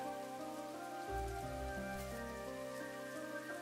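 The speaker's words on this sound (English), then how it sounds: "And it's raining." Steady rain patter from the video game Chained Echoes runs throughout, a continuous even hiss with low tonal music underneath that swells about a second in.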